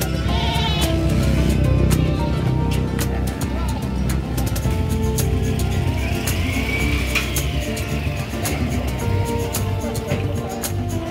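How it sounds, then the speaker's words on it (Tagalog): Many goats bleating repeatedly at a busy livestock market trading floor, loud and overlapping against a constant din of crowd chatter and background noise. "Okay, so ang daming kambing."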